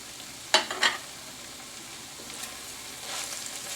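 Kanda batata poha is stirred in a pan, with two sharp scraping clinks early on and then a soft sizzle and quieter stirring, no talking.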